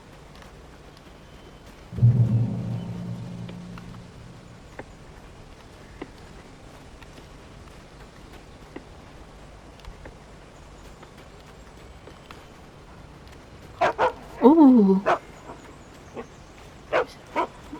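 A dog barks in the video game Alan Wake Remastered, a short low burst early on, followed later by a few sharp yelps and whimpers at moderate distance over quiet ambient game sound.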